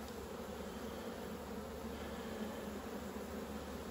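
Honeybees buzzing steadily in an open beehive during an autumn inspection, a dense, even drone of many wings close by, with no talk.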